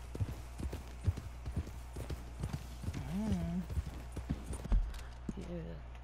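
Hooves of a very large horse clopping in Red Dead Redemption 2, steady soft footfalls with a brief whinny, under someone talking.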